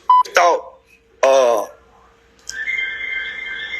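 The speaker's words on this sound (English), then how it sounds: "that's my phone" A mobile phone gives a short electronic tone and then a sustained, steady ringing or beeping pattern, fairly loud and close, right after someone speaks briefly during an interview.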